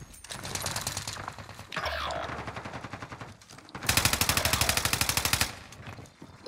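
Rapid bursts of automatic MP5 gunfire in Call of Duty: Black Ops Cold War on the Rebirth map, with a long sustained volley near the end, loud and close.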